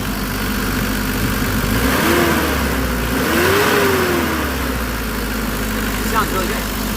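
Mitsubishi Delica Starwagon campervan engine idling while warming up on a hand throttle near 1,000 RPM, a loud, close, steady drone whose pitch rises and falls in a couple of gentle swells, with a person speaking over it.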